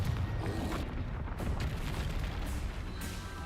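A Confringo spell explosion in Hogwarts Legacy booms and rumbles continuously, heavy low-end blasts rolling over one another, loud and near, with no voice present.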